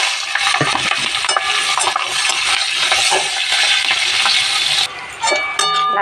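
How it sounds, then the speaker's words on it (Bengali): Chopped onion and green chillies sizzle steadily in the oil left from frying fish, with dried red chillies, cinnamon, cardamom and bay leaf, as a spatula stirs and scrapes the pan throughout; near and loud, with no talking. "লাল লাল পেঁয়াজগুলো ভাজা হয়ে গেছে"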